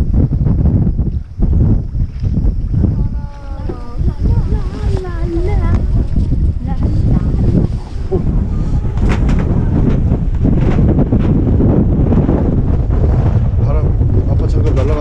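Strong wind buffets the microphone on a fishing boat at sea off Tongyeong, a steady roaring rush beneath the voices of adults and children talking throughout.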